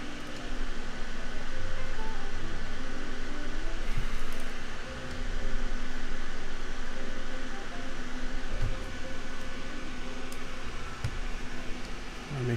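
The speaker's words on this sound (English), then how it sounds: "I have a fan next to me" A fan running beside a soldering station to pull away fumes gives a steady, close broadband whoosh of white noise with a low hum, continuous throughout with only a brief dip midway.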